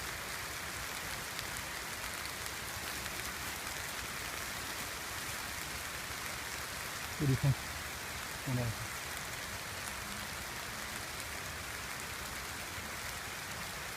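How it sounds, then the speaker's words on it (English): Steady rain falling near a lake from a passing storm cell, an even hiss filling the whole stretch, with a person briefly speaking partway through. "I think we caught a little storm cell because we're right by the lake."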